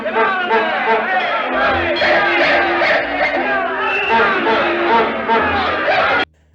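A crowd murmurs and chatters in an early sound film from 1927, a dense, continuous babble of many voices with occasional chuckles, steady and fairly close until it cuts off abruptly.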